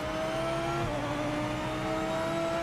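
Race car engine in the Assetto Corsa EVO racing game, a loud steady tonal engine whine with gear-linked pitch shifts and layered harmonics, continuous throughout with no talking.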